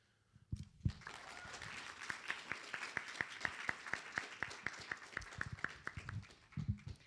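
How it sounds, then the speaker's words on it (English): Audience at a live pitch competition event applauding, a steady wash of many hands clapping that swells and holds for several seconds, moderately distant, with no speech over it. "Let's give them a big round of applause as they prepare to pitch their ideas."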